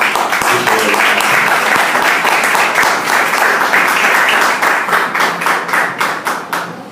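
A church congregation claps together during a Mother's Day service, loud and sustained with crisp individual hand claps, holding steady for several seconds before thinning into scattered, slower claps at the end.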